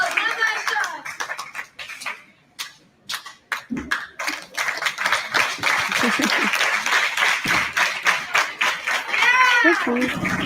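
Crowd at a PWBA bowling event claps and applauds in a dense, sustained burst that swells toward the end, with a voice speaking over it.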